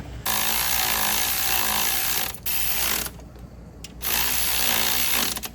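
A ratchet wrench clicks in quick bursts while bolting in an alternator on a 2015 GMC Yukon, loud and close, with short pauses between runs and no talk.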